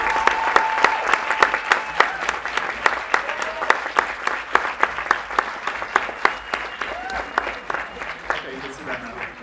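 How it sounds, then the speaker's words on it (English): An audience at a tech demo day claps steadily and energetically, the dense, even patter of many hands continuing throughout without letting up. "just give him a big round of applause"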